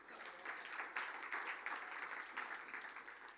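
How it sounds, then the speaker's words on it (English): Audience applause for a quiz winner at a business talk, a steady, fairly faint patter of many hands clapping with no voices over it. "So a round of applause."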